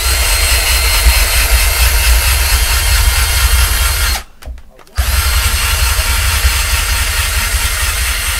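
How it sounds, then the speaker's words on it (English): A power drill running in reverse, in a guitar repair workshop working on an Epiphone SG, whirs loudly and steadily up close, cuts out briefly midway, then starts again and keeps running. "We'll go the other direction. We'll reverse the drill."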